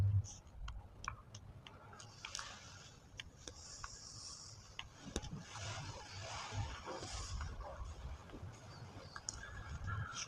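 A computer mouse clicks repeatedly on rating links on a website, producing a scatter of sharp, quick clicks over low background noise and a faint murmur.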